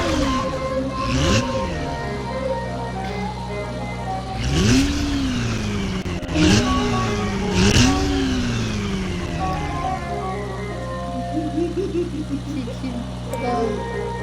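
A car engine in a cops-and-robbers video game revs in several quick rising and falling surges, one after another, loud and close, over a constant engine drone and game sounds.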